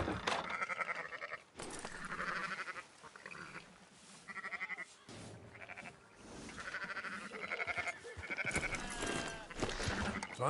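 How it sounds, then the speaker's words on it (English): Sheep bleat repeatedly in the Western video game Red Dead Redemption, several animals calling in overlapping, wavering cries close by, with a few brief spoken words mixed in. "Fine sheep."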